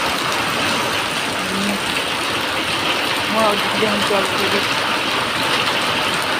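Heavy rain falls in a steady, loud hiss during a thunderstorm, with someone speaking briefly over the downpour.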